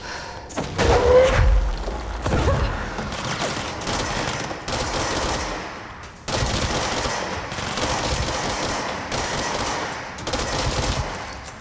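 Rapid bursts of inaccurate machine gun fire in the video game Control, loud and close, with heavy thumps and booms layered through sustained stretches of shooting and short pauses between volleys.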